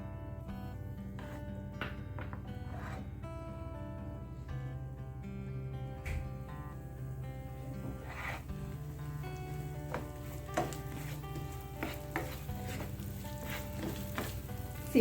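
Onion frying in a pan for a paneer kathi roll, a continuous soft crackle and sizzle that stays even throughout, with a faint tonal hum in the background.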